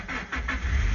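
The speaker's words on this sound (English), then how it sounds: "we're going to try and start this engine" A Suzuki car engine with a flat battery, jump-started, cranks in a few rapid rhythmic pulses, then catches and settles into a low steady rumble, close and loud, with no talking.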